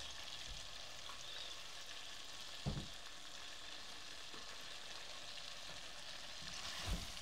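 A rohu fish head goes into a pan of cooked-down spice paste, setting off a steady low sizzle with two brief knocks, one near the middle and one near the end; no one talks.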